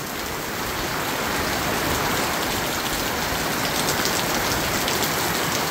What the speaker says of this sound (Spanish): Ahí está la chaparrona de Brandon.